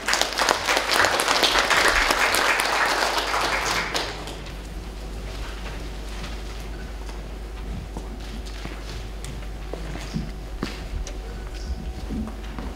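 An indoor audience applauds loudly to welcome health center directors onto a stage at a cancer-prevention event, dense clapping for about four seconds that then fades into light scattered claps and room noise.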